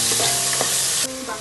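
Tomatoes and onions frying in a pan for veg biryani, a dense close sizzle with a brief stirring scrape, the hiss dropping slightly near the end.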